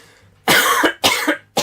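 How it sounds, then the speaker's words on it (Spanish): Three harsh, close coughs in quick succession from a person with something caught in the throat, loud and abrupt with brief silences between them. "Este corte ha sido porque me ha dado tos"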